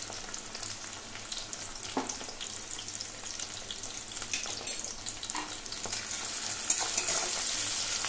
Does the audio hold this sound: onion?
yes